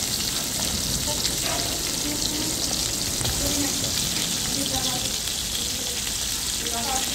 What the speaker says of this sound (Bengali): কই মাছগুলো আমার ভাজা হয়ে গেছে